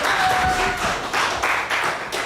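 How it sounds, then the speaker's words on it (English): An improv show audience claps and cheers for student performers taking the stage, a dense, loud wash of applause that keeps going for the whole stretch. "Give them a round of applause as they take the field."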